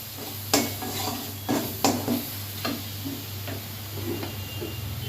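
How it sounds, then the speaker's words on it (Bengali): Spice paste with turmeric and a little sugar is stirred and fried in a pan for a tomato katla fish curry, with a spoon scraping in several distinct strokes over a steady sizzle. "মশলাটা কষানো হচ্ছে।"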